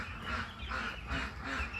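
Broiler ducks at the grower stage quack in a steady, close chorus, several birds calling in overlapping bursts roughly every half second.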